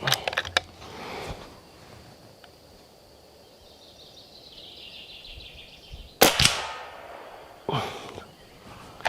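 An ASELKON MX6 6.35 mm full-power air rifle sends pellets into a metal frying pan behind a target, giving sharp metallic clanks and cracks in small clusters separated by quiet outdoor pauses.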